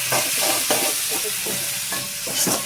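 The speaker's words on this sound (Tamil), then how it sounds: "இப்போ தக்காளி எடுத்து போடணும். நல்லா வதக்கு." Tomatoes stirred and sautéing in a hot pan for a snakehead fish curry, with a steady sizzle and repeated scraping stir strokes close by, no talk.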